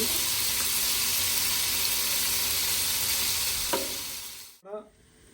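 Fish caught from a flooded paddy field sizzles steadily in a hot frying pan, a loud, even hiss with faint stirring scrapes; the sizzle cuts off abruptly near the end, leaving a brief clatter.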